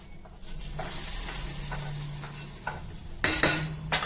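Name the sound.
tempering added to rasam, sizzling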